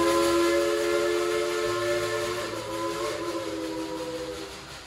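The Dollywood Express steam train at Dollywood's village depot sounds a loud, sustained multi-tone whistle that wavers and fades slightly, with the steady rumble and hiss of the steam engine underneath and no voices.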